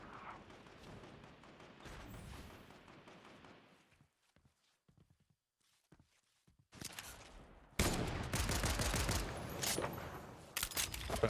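Gunfire in the Fortnite video game, a sudden loud burst of gunshots with dense crackling that starts after a near-silent pause, following quieter game ambience, with no voice.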